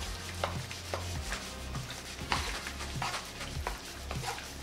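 Carbonara pasta is stirred fast with guanciale, pecorino romano and an egg and cheese mixture: a steady run of close, brisk scraping strokes over a low hum, with no talking.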